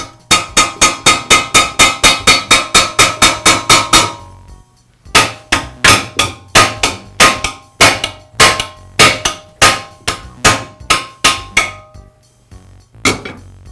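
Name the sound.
hammer striking a punch to free tine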